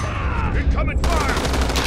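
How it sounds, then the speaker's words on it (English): Rapid gunfire in a team deathmatch video game arrives as a loud, dense burst of overlapping shots that turns into a sustained crackling fusillade partway through, with voices briefly heard alongside it. "Incoming fire."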